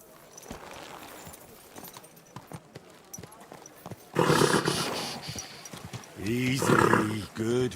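In the medieval game Kingdom Come Deliverance II, horse hooves clop in a loose rhythm, then a horse snorts and neighs loudly up close, with people talking throughout.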